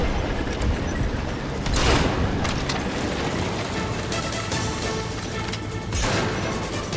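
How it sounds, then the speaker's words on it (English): Fuel tanks are shot and blow up in Metal Gear Solid V, a continuous crackling, crashing din of gunfire and explosions with heavier bursts around two seconds and again near six, loud and busy throughout. "Shooting the fuel tanks, of course, does additional damage"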